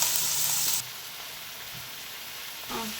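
Eggplant and onion frying in oil, a loud bright hiss at first that drops to a steadier, quieter sizzle, with a faint stir near the end.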